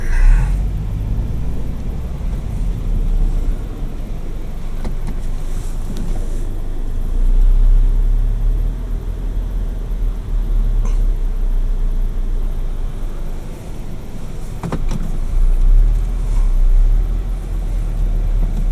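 Car engine rumbling steadily from inside the cabin as it slowly drives and pulls up to park at a curb on the Embry-Riddle Aeronautical University campus in Daytona Beach, with low road noise and a few faint clicks.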